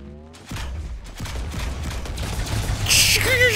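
Rapid gunfire bursts from the video game Halo 2 Anniversary, a dense fusillade of shots building in intensity with booming low end, followed by a bright high-pitched whine near the end.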